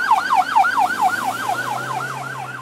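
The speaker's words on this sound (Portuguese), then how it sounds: "uma ambulância como esta aqui já está a caminho para prestar socorro" An ambulance siren wails in a fast, steady rising-and-falling cycle, loud and continuous with a low vehicle hum beneath it and no voices.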